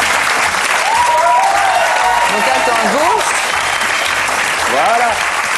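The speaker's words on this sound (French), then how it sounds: "Applaudissements pour la tortue." Studio audience applause at a French TV show fills the whole stretch with loud, steady clapping while a host speaks briefly over it.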